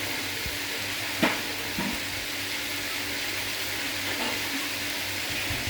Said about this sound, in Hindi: इसके अंदर थोड़ा फ्राई डालेंगे। उसके अंदर डालेंगे प्याज।